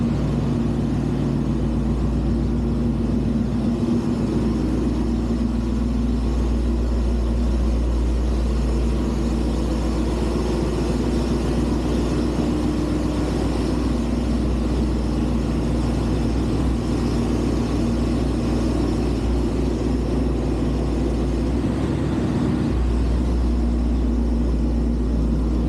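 A 392 cubic-inch 6.4-litre Hemi V8 runs strapped to a chassis dyno, a loud, steady low rumble that holds for the whole stretch, with one brief dip in pitch near the end.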